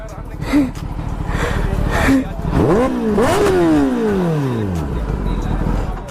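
A motorcycle revs and pulls away while being ridden, with swooping engine pitch rising and falling several times up close, and people talking over the engine.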